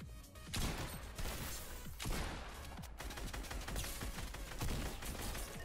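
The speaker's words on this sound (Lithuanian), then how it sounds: "Kažkas čia šaudo." Rapid bursts of gunfire in the video game Fortnite crackle almost continuously, with sharp repeated shots that sound close and loud throughout.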